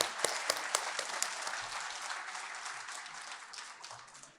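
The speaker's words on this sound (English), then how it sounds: "One more round of applause for Lisa, please." Conference audience applauding a presenter at a national AOT symposium, a dense wash of clapping with a few sharper claps early, gradually thinning and fading over four seconds.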